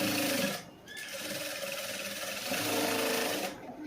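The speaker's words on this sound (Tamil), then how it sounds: "இனி அதை அப்படியே திருப்பி ஒரு படிமான தையல் போட்டுக்கலாம்." A sewing machine stitches the front panel of a cross-cut blouse, running in a steady close whir that breaks off briefly early on and again near the end, with no talking.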